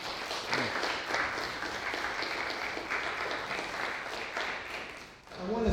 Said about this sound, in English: Let's give Clayton and Bruce a round of applause.